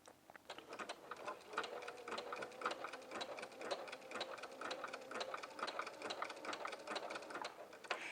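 A sewing machine stitches around a jumpsuit neckline with a fairly quiet, steady rhythmic clatter that runs throughout.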